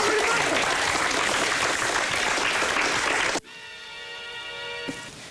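Studio audience at a 1999 German music TV broadcast applauding loudly and continuously for about three seconds, then cutting off abruptly into a quieter tonal background.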